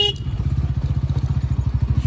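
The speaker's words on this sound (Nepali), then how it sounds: "ओ ल मेरो बाइकले उकालो तान्दैन त के हो यार" A motorcycle engine labours up a steep climb on a mountain road, its low, uneven thumping pulses rapid and close throughout, with a brief clatter at the start.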